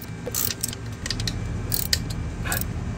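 Wire terminal being tightened down on an Aqua Shield ASQ165 pool pump, with a run of close mechanical ratcheting and clicking strokes over a steady background hum.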